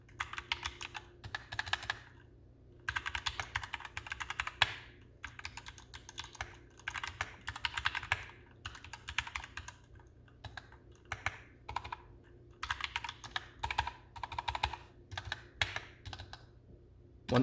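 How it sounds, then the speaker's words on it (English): Typing on a Ghost A1 mechanical keyboard with Cherry MX Red switches and an aluminum chassis produces rapid bursts of crisp close key clacks, separated by short pauses, with no voices. "this will be a little bit louder than your normal Cherry MX Red switch experience"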